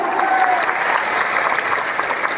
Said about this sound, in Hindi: अब तक की सबसे जोरदार तालियां